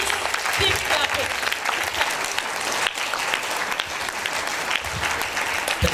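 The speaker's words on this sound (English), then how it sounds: "Please keep clapping." A ceremony audience claps steadily at the launch of a national space ambassador scheme in Abuja, a dense continuous patter of many hands, with a voice speaking over it.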